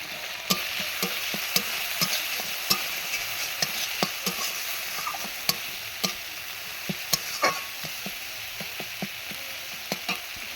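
Spice masala with cumin powder being sautéed in a pan, a soft continuous sizzle broken by repeated sharp spatula scrapes and stirring knocks at an uneven rhythm.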